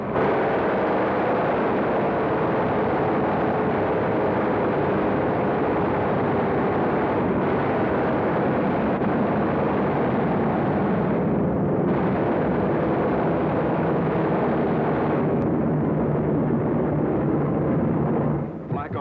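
Heavy, continuous low rumble of WW2 bomb explosions and droning bombers over a German target area, a dense, sustained roar with no clear gaps throughout.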